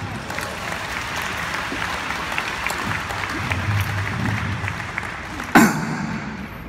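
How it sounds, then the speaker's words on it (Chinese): An audience at a corporate awards gathering in Taiwan claps continuously, a dense, steady round of applause with one sharp knock near the end. "我们给人第一个掌声。"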